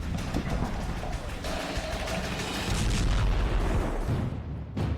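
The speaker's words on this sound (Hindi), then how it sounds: "जब 22 किलो के वॉरहेड में धमाका होता है तो देखिए कितनी बड़ी तबाही होती है।" A 22 kg warhead on a 48 kg artillery shell detonating, heard as a dense, roaring wall of blast rumble and crackling debris that stays loud and sustained throughout, with no voices over it.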